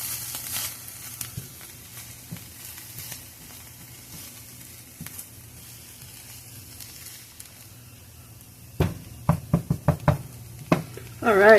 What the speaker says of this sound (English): we're going to let these saute for a little bit